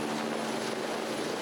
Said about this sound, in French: L'hélicoptère a pu finalement venir en renfort